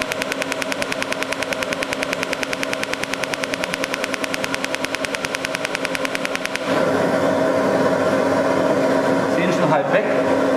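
Smoke suction tube, working like a vacuum cleaner, drawing off particles during laser removal of skin moles: a close mechanical drone with a rapid regular pulsing that changes after about six and a half seconds into a steadier, louder hum.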